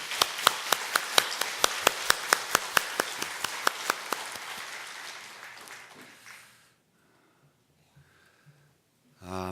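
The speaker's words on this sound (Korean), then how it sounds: "우리 찬양대 위에서 박수 한번 보내주세요" A church congregation claps for the choir, starting with sharp, rhythmic, near-unison handclaps that loosen into scattered applause and fade to near silence after about six seconds, with a faint thump at the very end.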